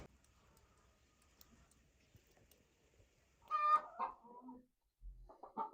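Hens shut in a coop during winter cluck in short, scattered bursts after a near-silent stretch, with one louder squawking outburst and a few fainter calls that follow, close by.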